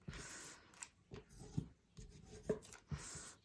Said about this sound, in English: now I want to mash all those with the scissors handle to make sure I have really solid creases